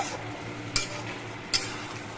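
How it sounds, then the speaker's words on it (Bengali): Chicken is sautéed in a pan, a soft steady sizzle with two sharp scraping clinks as it is stirred. "মাংসটা আমি আরেকটু কষিয়ে নেব"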